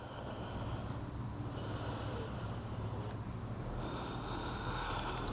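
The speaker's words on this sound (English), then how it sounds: "Continue Ujjayi breathing." Steady, rasping Ujjayi breath during a yoga session, a continuous airy hiss with slow swells as air is drawn in and let out, close and fairly quiet, no talking.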